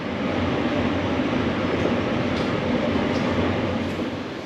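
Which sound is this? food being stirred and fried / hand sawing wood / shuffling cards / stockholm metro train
stockholm metro train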